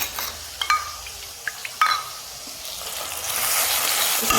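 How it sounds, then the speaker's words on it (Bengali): Tomato and green chili masala with turmeric and salt frying in a pan. A few clinks and stirring knocks are followed by a rising, steady sizzle that grows louder toward the end. "এটা ভাজা ভাজা হয়ে যাচ্ছে"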